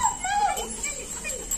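Young puppies whimper with thin, high cries at close range, several soft whines overlapping briefly amid outdoor background noise.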